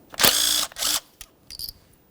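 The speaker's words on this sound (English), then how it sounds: "To remove your ignition coils, remove your 10mm headed mounting bolt." A ratchet turns out the 10mm mounting bolt of an ignition coil on a 2012-2018 Nissan Altima 2.5L. Two close bursts of clicking come first, then a few softer, shorter clicks.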